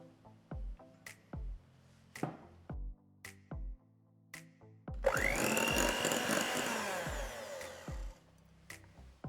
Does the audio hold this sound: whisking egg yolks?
yes